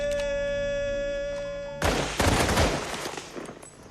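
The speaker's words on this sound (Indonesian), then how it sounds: "maka mereka dibariskan dan ditembak." A firing squad volley in a war film: after a sustained tonal music drone, a sudden loud burst of gunfire erupts at once, followed by rattling shots and a fading rumble.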